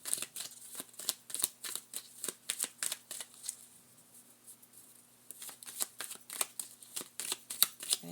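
Tarot cards shuffled by hand in rapid, crisp riffling bursts, a quieter pause in the middle, then more quick shuffles, close and alone.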